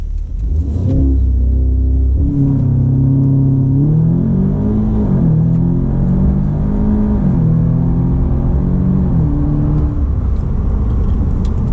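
An Audi S3 turbo accelerates from 0 to 100 through several gears, its loud engine note climbing, dropping at each shift, then rising again over about twelve seconds.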